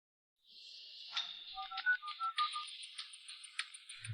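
A phone rings unanswered on an outgoing call about an overdue seafood delivery: a close, steady electronic ringtone with a warbling, repeating pattern, heard alone.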